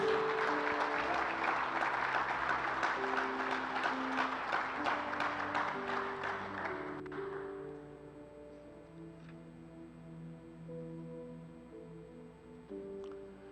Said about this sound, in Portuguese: aplaude o Senhor, glória a Deus